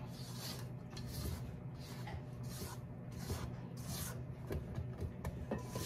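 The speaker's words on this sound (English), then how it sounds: "Scrape." A spatula scrapes maple bacon pound cake batter around a mixing bowl at home, giving a steady, continuous close rasp and rub that runs unbroken for several seconds with no talk over it.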